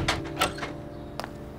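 A door shuts indoors with a couple of sharp knocks and a brief thud, followed a moment later by another short clunk, heard without any speech.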